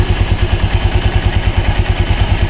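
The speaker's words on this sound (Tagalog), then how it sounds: "Yun nga lang kasi pag tinaasan yung idle RPM ninyo, sigurado yung mga panggilid ninyo iingay yan." A Honda Click 125 V3 scooter idles at a raised RPM, its CVT giving off a steady, loud low-pitched throb with a fast regular pulse and faint clattering on top, heard up close with no voices.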